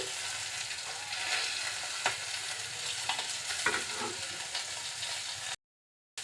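Cooking oil going into a fresh pan after fish has been fried, with a soft continuous sizzle and stirring scrapes, low and steady, then a sudden drop to silence near the end.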